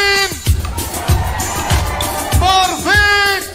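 Carnival audience at a live 2024 show shouting and cheering in a loud, continuous crowd roar, with a presenter's amplified voice calling over it.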